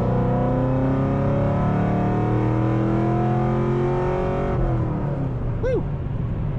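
Chevrolet Camaro engine revving hard from inside the car, a loud rising drone with climbing harmonics that drops off sharply after several seconds, then settles into a rumbling idle.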